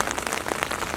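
Steady rain falls outdoors on surfaces during an open-air calisthenics chest workout, a dense, close patter of drops hissing and tapping without pause and with no voices over it.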